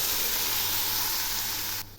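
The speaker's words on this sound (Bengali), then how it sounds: "এখন আমি সর্ষের বাটি ধোয়া একটু জল দিলাম।" Water from rinsing a bowl of mustard paste hits frying mustard paste in a pan for an Aar fish curry, giving a loud, steady broadband sizzle that cuts off sharply near the end.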